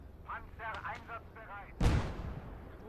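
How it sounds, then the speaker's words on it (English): An anti-tank grenade goes off in the World War II game Gates of Hell: Ostfront, a single loud, sharp blast with a rumbling tail that follows several seconds of background game sound. "Pretty decent explosions, those things, actually."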